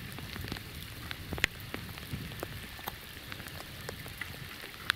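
Steady rain falls outdoors near a small footbridge over a stream, a continuous hiss with scattered sharper drops tapping close by, no voices.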